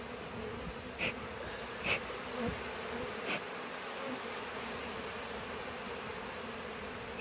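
Honey bees hum faintly in a steady, low drone during a bee rescue, with a few soft bumps and clicks scattered through it.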